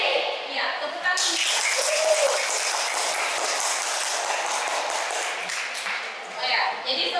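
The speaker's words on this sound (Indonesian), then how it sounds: "tepuk tangan" Students in a school classroom break into steady, dense clapping that begins abruptly and carries on evenly for several seconds, fairly close and loud.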